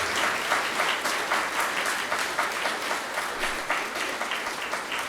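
An audience at a Bhagavat Katha kirtan in a Radha Krishna temple claps in a steady rhythmic beat, loud and close, each pulse of many hands landing together in even succession.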